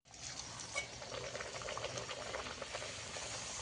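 Pea kachori frying in a wok: a steady, faint bubbling sizzle of hot oil with soft crackles, continuous and close.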